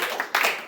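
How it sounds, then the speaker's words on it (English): A short, dense burst of audience clapping at a live comedy show, close and fairly loud, swelling briefly before it fades within a second. "Clap it up for Lizzie."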